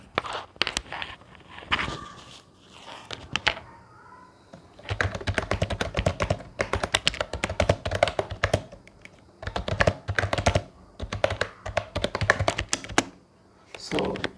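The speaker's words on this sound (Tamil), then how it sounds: "ஸோ எப்படி இருக்குன்னு சும்மா டைப் பண்ணி டெஸ்ட் பண்ணி பார்த்துடலாம்." Typing on a semi-mechanical computer keyboard held close to the mic, a dense, steady run of fast clicky keystrokes after a few scattered taps at the start, loud and alone.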